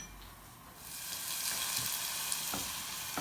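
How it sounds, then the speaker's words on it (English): Aubergine frying in a hot pan for a Cape Town-style parmigiana, with a steady broadband sizzle that swells after the first second and stays loud, plus a few brief clinks from utensils. "we're going to put in our aubergine to fry off"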